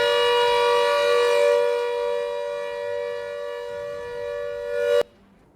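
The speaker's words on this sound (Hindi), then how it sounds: "सिविल डिफेंस सायरन बजाने की तैयारी में जुटा हुआ है।" Civil defense siren sounding during a test, a loud sustained harmonic wail that swells slightly and then cuts off abruptly near the end, heard alone.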